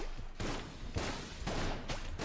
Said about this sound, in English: the explosion got him